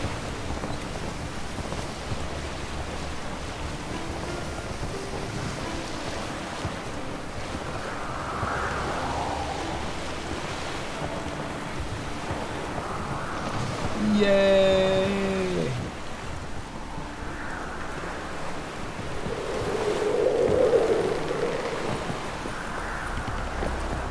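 Boat sailing across open water in The Witcher 3, a worn vessel on its last legs, with steady wind and surf wash throughout, swelling louder in places, and a few brief tonal game sounds midway.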